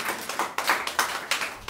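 A church congregation gives a round of hand claps during worship, with sharp, fairly regular claps in a quick rhythm of about eight beats, moderately close and without talk.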